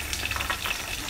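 Chopped, sliced garlic and curry leaves fry in about four tablespoons of hot oil in a pan, giving a soft, continuous sizzle and crackle close up, with no talking.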